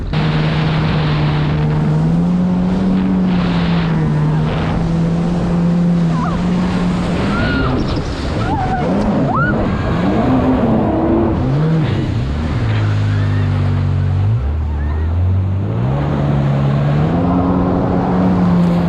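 A Yamaha GP1800R SVHO jet ski roars close and loud on the water, engine pitch climbing and dipping as it accelerates hard, with water rushing underneath throughout.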